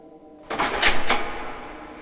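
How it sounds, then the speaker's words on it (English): A basement door slides open with a sudden rattle and brief scraping, close and fairly loud, then settles into quiet room noise. "I heard the basement door open of its own accord"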